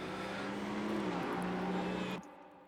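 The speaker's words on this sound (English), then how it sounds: "we can hear the engines revving up" Race car engines roar together at the start of a Nürburgring GP race in the Rennsport racing game, a dense, steady drone with rising pitch that cuts off sharply near the end.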